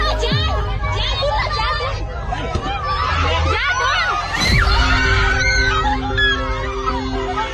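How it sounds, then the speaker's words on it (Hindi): Children scream and shout inside a bus caught in a flood in Nepal, a dense, loud, panicked babble of high voices and cries that continues throughout, with adult voices mixed in. "बस में मौजूद बच्चे चीख रहे हैं, चिल्ला रहे हैं।"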